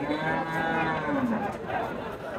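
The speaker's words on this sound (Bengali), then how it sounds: "গরু রয়েছে" Cattle, including pregnant cows, low at a livestock market with a steady, close moo that swells and fades against the constant murmur of the crowded market.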